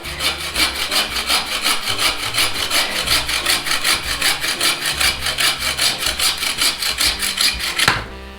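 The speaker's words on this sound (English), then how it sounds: "Now the key to sawing is you don't want to put much pressure on it." A hand saw cuts through a tree trunk in steady, rhythmic back-and-forth strokes, loud and close, with the cut ending just before the clip finishes.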